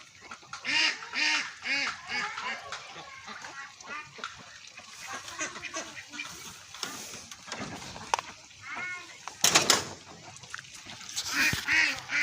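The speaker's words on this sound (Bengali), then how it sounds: "উন্মুক্ত খোলা মাঠে হাঁস পালন। এগুলো খাকি ক্যাম্বেল হাঁস দেখতে পাচ্ছেন।" Khaki Campbell ducks in an open field beside rice paddies quack in repeated loud, close bursts, several birds calling over one another with brief pauses between.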